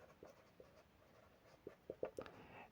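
A pen scratches across paper in a quiet room during an economics lecture, with soft strokes at first and then a quick run of sharper, closer scribbles near the end.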